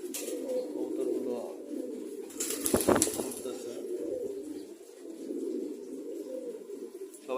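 Pigeons kept indoors in a room coo softly and continuously at close range, with a brief burst of wing flapping partway through and a short spoken word.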